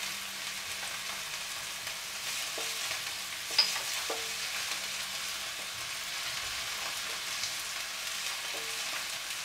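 Garlic fries in a pan for parmesan pumpkin meatballs, a soft continuous sizzle close by, with a few scrapes and clinks as it is stirred and no speech.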